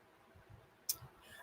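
A single sharp, faint computer mouse click lands midway through an otherwise quiet room, with a low murmur underneath.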